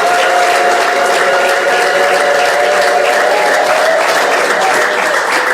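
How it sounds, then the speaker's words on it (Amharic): Loud, continuous applause fills the air at a Christmas celebration in an office compound in Arba Minch, with high trilling ululation carried over the clapping throughout. "እልልታ፣ ጭብጨባ፣ አድናቆት"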